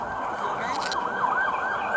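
An ambulance siren wails steadily at a crime scene after a police shooting, its rising and falling tone carrying clearly over a continuous traffic rumble with no voices.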